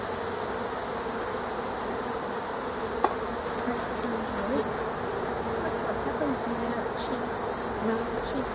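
A steady, dense buzzing of many honey bees hovering close by at an opened hive, continuous throughout with a faint tick partway through.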